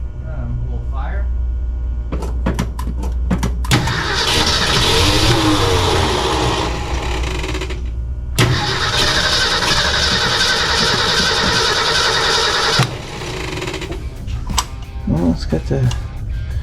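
A 1966 Ford F100 truck with manual chokes cranks and fires, then its engine runs and revs loudly in long roaring bursts with pauses, while people talk around it.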